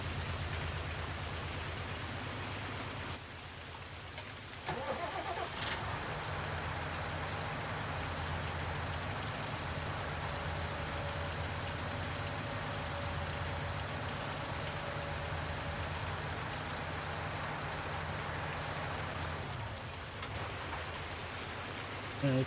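Heavy rain falling in Farming Simulator 19 on a farm during rainy weather, a steady dense hiss that runs for the whole stretch, briefly dipping and shifting near the start and end, with no talk over it.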